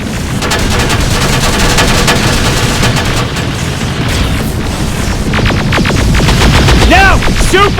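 Loud, sustained gunfire and booming blasts from a downtown battle in the video game Terminator: Resistance, a dense barrage of shots and impacts with sharp electronic whines near the end, close and relentless.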